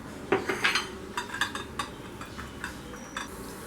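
Salted, turmeric-coated potato pieces are tossed in a bowl, giving light, quick clinks and scrapes of utensil against the dish, faint and close.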